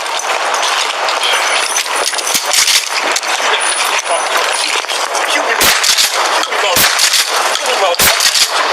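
Police fire bean bag rounds during a street arrest, a rapid series of sharp, loud cracks in an irregular rhythm over a noisy outdoor background. Several bangs land close together, with the heaviest few near the end.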